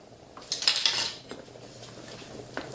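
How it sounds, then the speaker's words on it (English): A spoon stirs chili powder into chili con carne in a pot, a brief burst of metallic scraping and clinking against the pot followed by a couple of softer taps, quiet and close. "And stir that into the mix."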